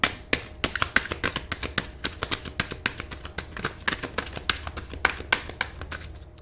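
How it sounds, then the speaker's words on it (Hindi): A deck of tarot cards being shuffled by hand, with quick, close, crisp riffling taps repeated in an irregular rhythm, alone and fairly quiet. "लास्ट शफल है"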